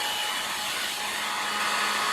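A hair dryer blows a steady, even hiss close by, aimed at drying house paint, continuing unbroken without any voices.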